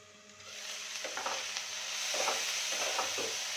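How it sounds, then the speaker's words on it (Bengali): Vegetables for upma stirred in a sizzling pan: a continuous soft hiss of frying with a few scraping strokes of the spoon against the pan, fairly quiet and close. "নাড়িয়ে একটু সময়ের জন্য আমি ঢেকে দেব।"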